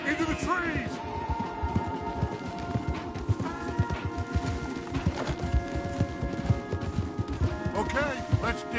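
Horses gallop hard in the video game Red Dead Redemption 2, their rapid, steady hoofbeats pounding beneath shouted voices and sustained musical tones.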